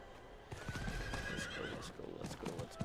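Rapid hoofbeats of a galloping horse in Diablo IV with a whinny rising over them, loud and close, in a busy game mix of background sound.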